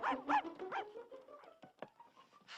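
A small dog barks in quick yappy bursts up close, then gives softer whimpering yips. No speech over it.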